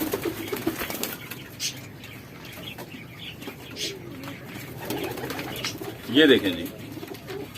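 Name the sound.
pigeons cooing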